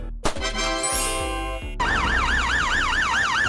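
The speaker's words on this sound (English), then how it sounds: "It has flashing lights and a loud siren to move through traffic." An ambulance siren wails loudly and close, beginning with a rising and falling tone sweep and then switching to a fast, regular warble that continues to the end with no voices.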